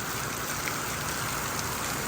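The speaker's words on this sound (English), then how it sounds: "we've had this monsoon rain for the past hour, and the rain has been coming down like this" Heavy monsoon rain pours down steadily, a dense, even hiss of water lasting the whole time with no breaks and no voices.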